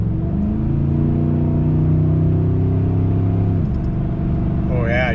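A Chevrolet Silverado 1500 pickup with a 4L60E automatic transmission and an added transmission cooler accelerates, its engine droning and climbing in pitch before dropping as the gearbox shifts, heard from inside the cab with a voice speaking over it.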